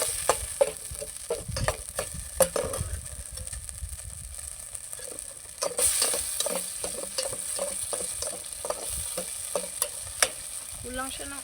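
Garlic and onion sautéing in a pan for a mushroom pasta: a steady sizzle with frequent sharp clinks and scrapes of a utensil stirring against the pan, close and moderately loud, with a brief quieter stretch midway.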